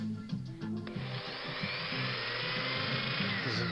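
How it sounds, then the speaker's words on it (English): A small high-speed drill whines continuously and grinds into metal at close range, drilling out rivets on a diecast model car, rising to a steady buzzing drone after a brief start. "here we're starting drilling"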